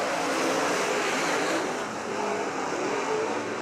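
A pack of race cars roars around a short track at a heat race, a dense continuous wash of engine noise from the field at close-to-mid distance.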